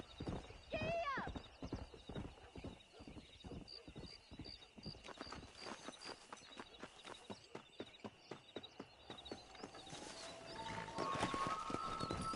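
Horse hooves from the video game Red Dead Redemption clip-clop in a quick, steady galloping rhythm for the whole stretch, with a brief whinny near the start and a rising game music swell toward the end.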